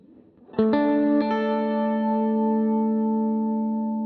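Electric guitar run through a Headrush unit with vibrato placed before the reverb: a few picked notes ring into a sustained, wavering chord that holds steady and decays slowly in a wide reverb tail, played alone.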